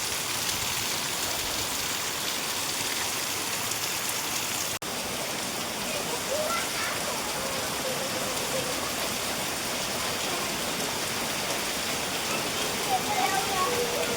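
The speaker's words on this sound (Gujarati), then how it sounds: "ધોધમાર વરસાદ છે આજે" Heavy rain pours down steadily, a dense continuous hiss filling the whole stretch without letting up.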